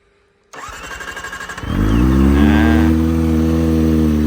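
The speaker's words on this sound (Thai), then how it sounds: "มาสตาร์ทฟังเสียงเครื่องยนต์แล้วก็วอร์มน้องหน่อยนึงนะครับ" A Kawasaki ZX25R SE motorcycle engine cranks with a rapid stuttering starter for about a second, then catches and settles into a loud, steady idle.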